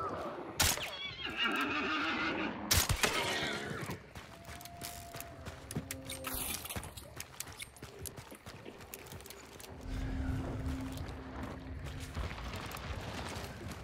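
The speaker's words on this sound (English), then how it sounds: "Let's kill the horsey." A horse in Hunt: Showdown lets out a loud, close whinny, followed by hoof clip-clop, creaks and scattered game noises over a busy background.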